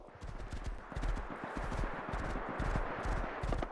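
Horse hooves clip-clop at a steady trot in the video game Rust, in a snowy setting, a fast continuous rhythm of close hoofbeats over a dense wash of ambient game noise.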